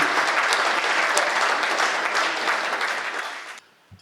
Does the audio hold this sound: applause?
yes